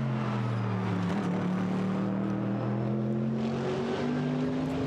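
Mercedes AMG GT race car at a Blancpain GT free practice session in Hungary, engine note rising steadily as it accelerates, a sustained loud droning tone with no talk over it.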